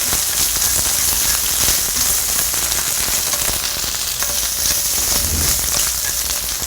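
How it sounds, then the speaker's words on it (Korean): Continuous crackling sizzle of ham frying in a hot pan with a little oil, steady and close, with no voices. "프라이팬에 기름을 정말 살짝만 넣으시고 요 햄을 볶아주세요"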